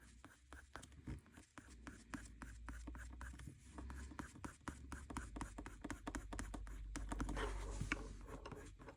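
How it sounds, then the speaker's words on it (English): A Derwent colour pencil scratches and scrapes across paper in short, rapid strokes while sketching water-weed textures, steady, close and soft, with a low hum beneath. "giving some textures, pushing the pencil just to make some marks."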